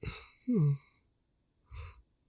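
A soft, drawn-out yawn with a rising-and-falling voiced tone, followed after a pause by a quiet breathy exhale.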